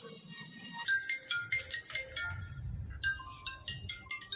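A cartoon phone rings with a bright, chirpy electronic ringtone: short repeated tonal bursts in quick succession, fairly close and clear over a faint low background.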